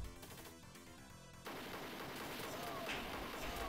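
Gunfire from an arcade shooting game plays as a rapid, continuous burst of synthetic shots over a noisy game soundtrack, with the fire turning into a denser wash of blasts partway through, quiet overall.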